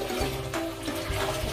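Water pours from a container into a home fish tank, a short gushing, splashing stream with brief surges, close by and without talk.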